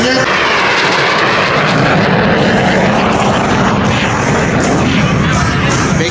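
A Soviet MiG-17 jet fighter in flight makes a continuous, loud, broadband roar with no breaks, filling the whole stretch of sound.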